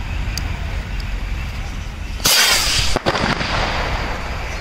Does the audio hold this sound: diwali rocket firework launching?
yes